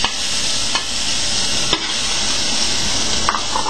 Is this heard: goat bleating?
no